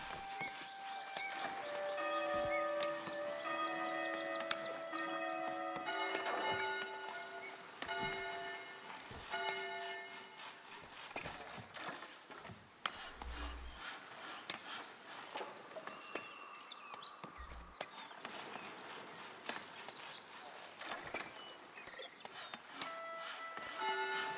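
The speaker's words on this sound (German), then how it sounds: "Glocke läuten täglich" Church bells ringing from a village church in the video game Foundation, repeated bright clanging tolls layered over one another, with birds and horse hooves faintly in the background.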